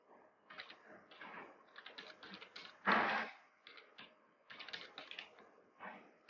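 Keys clatter on a computer keyboard while Python code is edited, in quick irregular bursts of clicks with short pauses and one louder clustered burst midway, close and fairly quiet.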